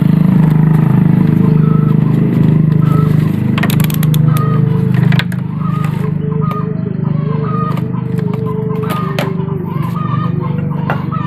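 In a repair workshop, a Honda Supra motorcycle undergoing an ignition coil check is kick-started. Its running engine hums steadily and nearby, with sharp clicks and knocks, while someone talks over it.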